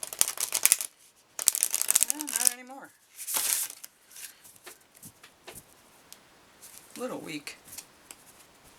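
Tarot cards shuffled by hand, with the shuffling a little clumsy because it is done left-handed. It comes as several short riffled bursts, close and fairly quiet, broken by gaps, and a voice speaks briefly between them.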